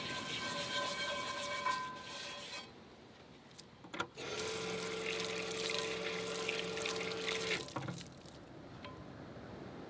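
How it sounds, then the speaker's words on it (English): Running water rinsing grease off a part, a steady hiss of spray with a brief gap and a clunk partway through, then a pump-like hum under the flow, no talking. "Just give it a good rub around and then just rinse it off."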